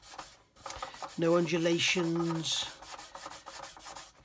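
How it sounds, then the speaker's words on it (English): Filler being sanded smooth on a plastic model aircraft wing: steady rasping strokes, close and fairly quiet, with someone speaking over part of it. "I'm sanding away detail on the wing, but unfortunately that's unavoidable"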